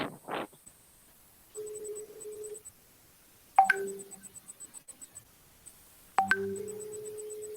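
A telephone call sounds over an online consultation meeting: a steady electronic tone, then two sharp chime-like rings followed by sustained tones, moderately loud and with no talk.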